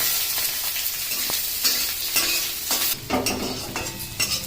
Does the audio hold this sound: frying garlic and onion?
yes